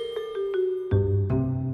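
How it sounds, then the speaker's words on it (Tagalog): A school bell chimes a few tonal dings in sequence, then a louder, fuller ringing tone sustains to the end, clear and without voices. "Nag-bell na!"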